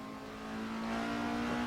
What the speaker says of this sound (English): racing car, these were produced in Estonia, it does use a Lada engine